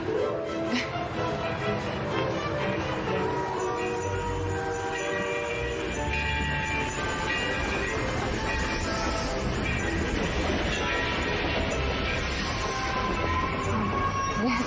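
A vintage steam train on the Long Island Rail Road rumbles steadily along the tracks with a continuous chugging roar and faint voices in the background.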